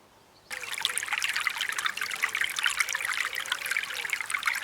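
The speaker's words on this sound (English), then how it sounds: "the sound of that stream babbling away" A woodland stream in a garden in Wales babbles steadily after a quiet start, a close, continuous trickle of running water over stones with no voices.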